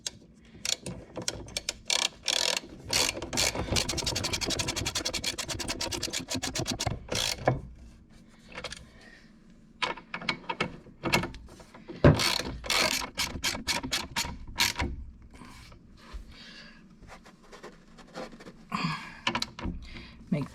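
A ratchet clicks rapidly while tightening 18 mm bolts on MK3 Supra front brakes, in long fast bursts and shorter strokes, with talking over parts of the work.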